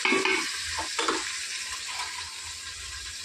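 Onions fry in a hot pan, a steady soft sizzle that runs throughout, with a few brief stirring scrapes near the start.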